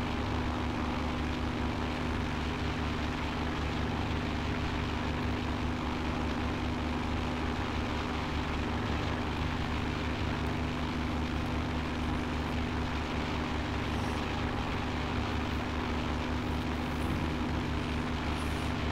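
A small plane's engine drones steadily in flight, a loud, continuous propeller hum with a deep, even rumble that holds without pause for the whole stretch, with no speech.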